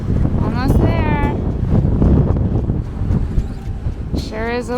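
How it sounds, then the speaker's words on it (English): Strong wind buffets the microphone on a ferry deck at sea between La Paz and Mazatlán, a heavy continuous low roar, with brief voices rising over it near the start and end. "Sure is windy out here."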